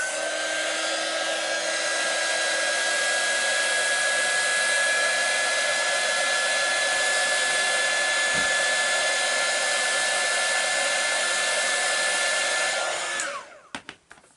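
A hair dryer blows steadily and loudly on a coloured-in page from a cat-rescue colouring book, a continuous whirring roar with a high whine that runs for about thirteen seconds before cutting off abruptly, followed by a few faint clicks.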